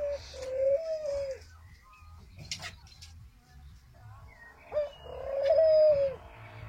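A variegated male cage bird calls in two short whistled phrases a few seconds apart, close and clear above quiet room noise with a faint click between them.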